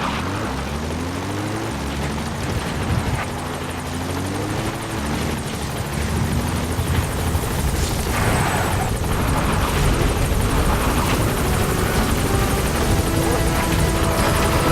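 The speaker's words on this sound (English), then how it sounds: "Support helicopter has arrived." Support helicopter arriving in the video game Metal Gear Solid V: The Phantom Pain, a steady, loud rotor drone with a low engine hum that swells slightly as it draws nearer, with radio-style voices talking over it.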